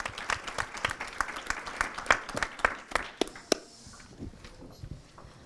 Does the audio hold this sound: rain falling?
no